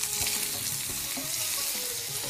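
Chopped garlic sizzles steadily in hot oil in a pan while making chicken Manchurian, a close, continuous crackling hiss with a few faint stirring scrapes underneath.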